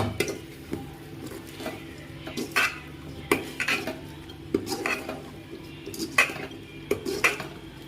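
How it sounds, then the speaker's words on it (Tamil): A spoon scrapes and knocks against a metal pot of cauliflower curry in irregular bursts, close by, with soft clinks of utensils and no talking. "நல்லா கிண்டி விட்டுக்கோங்க"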